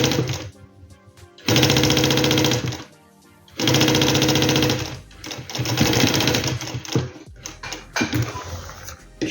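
A sewing machine stitching a zipper onto a backpack, fast mechanical rattling runs of stitches in several loud bursts separated by short pauses, close by with no talking.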